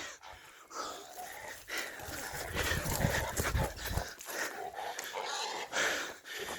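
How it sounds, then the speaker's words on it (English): Dogs by a creek in rural Australia, with panting and movement sounds close by among rustling and outdoor noise, and voices talk nearby. "Good dogs."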